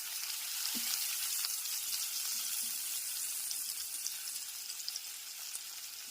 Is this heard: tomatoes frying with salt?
yes